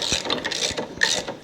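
A 1/4 inch ratchet tightens a bolt on a 2007 Harley Sportster, giving quick bursts of close, crisp clicking in a few short strokes.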